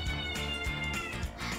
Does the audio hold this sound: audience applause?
no